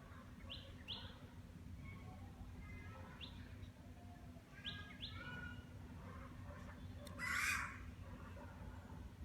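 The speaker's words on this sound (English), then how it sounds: "And there is this bird chirping." Outdoors in a quiet natural setting, small birds give sharp repeated chirps and short tweets at a distance, with one louder nearby call near the end over a low steady background hum.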